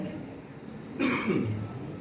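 A man who is feeling unwell gives a single short, throaty cough about halfway through, clear and close. It breaks a quiet stretch and no speech is heard around it.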